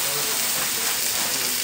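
Thick ribeye steaks sear on a hot surface, giving a steady, close hiss of sizzling fat that carries evenly through the short stretch with no other sounds.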